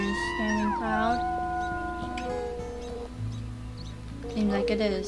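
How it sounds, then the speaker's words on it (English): A wolf in the WolfQuest video game lets out short rising and falling howling calls, with a person talking over part of it. "Quick howl to make sure all the territory is standing proud."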